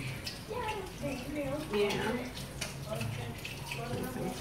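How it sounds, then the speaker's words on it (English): Tap water runs and splashes as a container is rinsed out in a kitchen sink, a steady close wash under a brief spoken word. "rinse that out a bit"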